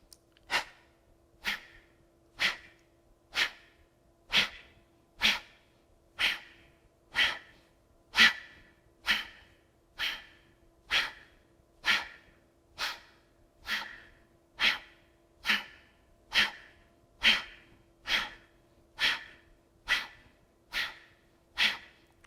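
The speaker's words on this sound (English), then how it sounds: "Nice explosive exhale. And a nice passive inhale." Rhythmic breathing exercise of sharp explosive exhales through the nose followed by quiet passive inhales, about twenty evenly spaced forceful puffs, close and clear with no talking.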